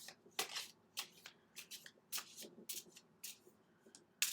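New tarot cards are shuffled in quick, crisp riffling bursts, close and fairly quiet, repeating in irregular bunches with brief pauses between.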